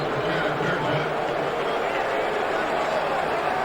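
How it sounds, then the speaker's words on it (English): Stadium crowd at a Notre Dame versus USC college football game, a dense steady roar of many voices filling the air, sustained and fairly loud throughout with an announcer's voice over it. "Crowd's not happy."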